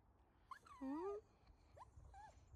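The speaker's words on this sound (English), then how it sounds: "Do you think he's a nice doggy?" A dog on a walk in the woods gives soft, rising and falling whimpers and whines, a longer cry followed by two shorter ones, faint against low outdoor background noise.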